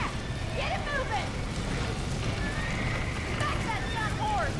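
Horses in the Red Dead Redemption video game neigh and whinny several times while hooves clop steadily underneath, heard together with shouting voices.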